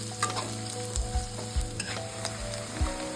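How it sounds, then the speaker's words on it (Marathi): Chopped onion and vegetables for homemade veg Manchurian sizzle steadily in oil in a pan, with a few soft thumps of stirring breaking through the frying. "चांगलं परतून घ्यायचे"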